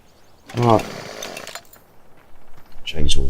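A chainsaw cuts in the Farming Simulator 17 video game, a loud revving buzz that rises and falls over about three seconds, with a voice speaking briefly over it.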